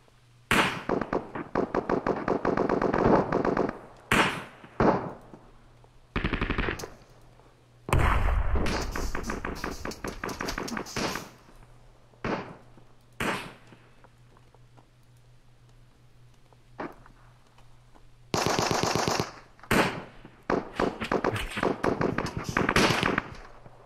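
Bursts of rapid gunfire crackle through a World War II Normandy 1944 shooter game, loud automatic volleys in several separated clusters with short quiet gaps between them.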